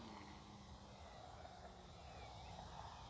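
A HobbyZone Carbon Cub S 2 RC airplane, a 1.3 m electric model, flies at half throttle, its steady distant motor and propeller drone filling the air with a broad, even whir that holds level throughout.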